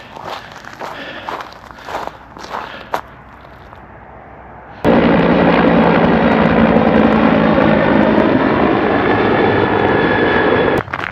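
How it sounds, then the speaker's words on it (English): A helicopter passes overhead outdoors in a snowy Peak District winter setting, arriving suddenly as a loud, steady whirring roar that continues for several seconds after quieter crunching footsteps. "Why are we so fascinated by helicopters?"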